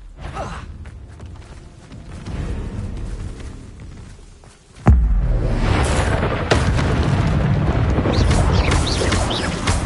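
A Bombarda explosion spell in the Hogwarts Legacy video game goes off midway as a sudden deep boom, followed by loud, sustained rumbling and crackling debris.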